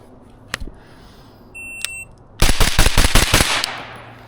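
Outdoor shooting range drill: a single sharp shot, a timer beep, then a loud rapid string of about eight gunshots fired in quick succession, close and unmuffled, with no voices.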